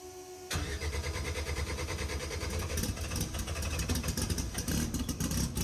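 A Honda race car's rebuilt engine cranks and fires up abruptly, then settles into a loud, rough, lumpy idle that rumbles close by.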